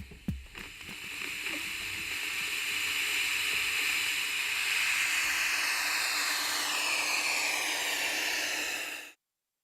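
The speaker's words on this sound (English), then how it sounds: "It's easy to generate white noise using a simple circuit that sort of misuses a transistor." Steady, loud broadband hiss of white noise from a reverse-biased transistor circuit, holding evenly for several seconds after a few brief clicks, then cutting off abruptly.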